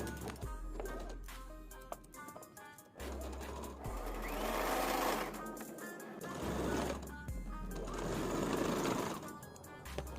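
A sewing machine stitches baby frock fabric in close, steady motorized runs, pausing briefly between stretches with a low hum and light clicking under each burst.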